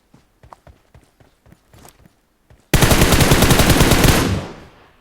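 Gunfire in the mobile battle game PUBG Mobile: a string of separate sharp single shots, then a loud sustained burst of rapid automatic fire that fades out near the end, close and dominant with no talking.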